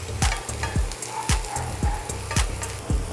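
Chopped tomatoes sizzle in a pan of caramelized white onions, with a continuous frying hiss broken by regular scraping strokes of a spoon, about three each second, close and clear.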